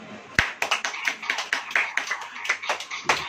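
A church congregation claps during a sermon in sharp, fairly quick strokes, a modest near group of hands, fairly quiet overall.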